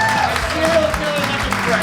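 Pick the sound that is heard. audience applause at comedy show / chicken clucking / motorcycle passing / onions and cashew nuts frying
audience applause at comedy show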